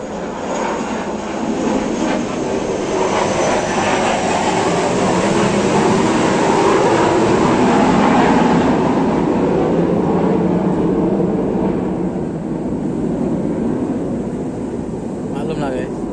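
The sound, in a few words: airplane flying overhead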